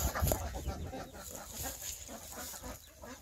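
Backyard hens cluck in short, scattered bursts as they come out of a coop freshly cleaned of old straw, soft and fairly close with no talking.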